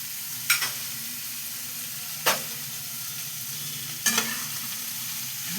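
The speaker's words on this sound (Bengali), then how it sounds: "জাস্ট একটু নাড়িয়ে নেওয়া" Chicken coated with salt and spices sizzles gently in a pan while three distinct spoon stirs scrape through it at spaced intervals over a low continuous hiss; nobody speaks.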